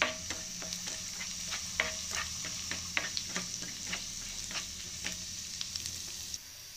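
Garlic, green chillies and dry red chillies frying in hot oil in a pan, a steady close sizzle broken by frequent crackling pops and stirring scrapes, with no talking.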